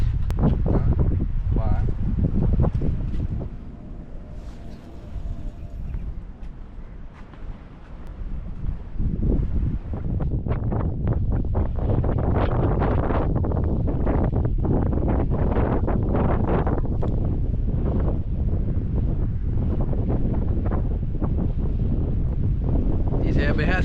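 Strong wind buffets the microphone while fishing from a boat near the Bagan Ajam fishermen's jetty, a steady loud roar with gusty rustling that dips briefly before building again, with voices talking over it.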